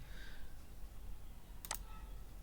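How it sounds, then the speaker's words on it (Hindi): A single short mouse click sounds once, faint and crisp against a quiet background, while signing in to the AzoraPay retailer panel on a computer. "चेक बॉक्स पे क्लिक करना है, उसके बाद साइन इन पे क्लिक कर देंगे।"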